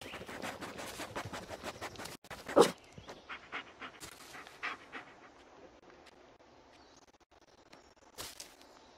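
A dog pants in a wooded area in Blair Witch, a fast rhythmic run of breathy huffs close by that slows and thins out, with a sharp thump partway through.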